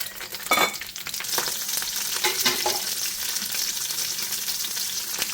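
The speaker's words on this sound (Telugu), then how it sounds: "ఒక 6-7 పచ్చిమిరపకాయల మజ్జిగ ముక్కలు చేసి నూనెలో వేసేయండి" Six or seven chopped green chilies fry in two spoons of oil in a kadai for coriander chutney, producing a constant close sizzle broken by a few sharp stirring scrapes early on.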